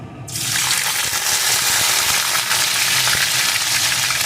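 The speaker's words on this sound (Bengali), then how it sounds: "লঙ্কাটা একটু ভাজা ভাজা হলে এর ভিতরে দিয়ে দেব কয়েকটা রসুন কুচি" Dried red chili, with garlic added, sizzles in hot oil while saag is being cooked; a loud, steady frying hiss starts abruptly and continues without a break.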